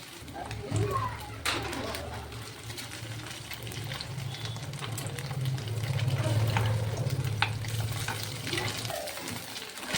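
Milk fritters (doodh bhaja) frying in a pan make a steady, moderate sizzle that runs through the whole stretch, with a voice talking over it.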